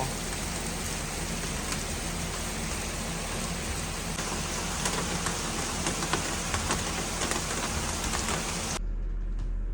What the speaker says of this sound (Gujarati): જો આટલો ધોધમાર આવે છે વરસાદ